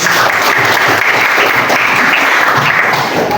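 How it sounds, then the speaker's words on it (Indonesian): Classroom applause, a steady, loud, continuous patter of many hands clapping together for a few seconds without a break. "Tepuk tangan dulu buat semuanya"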